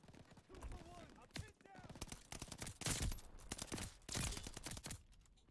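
An MG42 machine gun fires in Call of Duty Vanguard multiplayer in sustained, dense bursts mixed with other gunfire and game sound effects, while a voice talks over parts of it.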